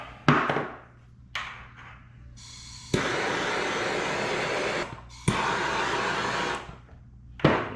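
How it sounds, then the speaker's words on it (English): Heat gun blowing on heat shrink tubing over a hot-wired fuel pump wire on an NB Miata, a steady airy roar switching on and off in several bursts of a few seconds, close and fairly loud. "I'm gonna melt that heat shrink down."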